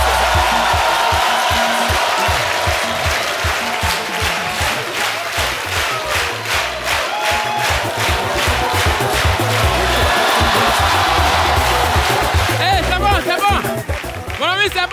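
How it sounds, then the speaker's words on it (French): A large comedy-show audience applauds and cheers loudly and steadily for a guest, a dense continuous wash of clapping and shouts with an announcer's voice over it. "Aga Lawal, sous vos applaudissements."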